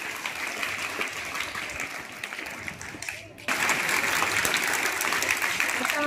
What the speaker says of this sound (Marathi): फक्त अर्ध्या टाळ्या वाजवत, अर्ध्या